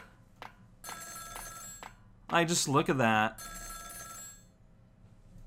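An old-style telephone in the Ghost Trick video game rings in two bright, trilling bursts, separated by a short stretch where someone speaks over a quiet background.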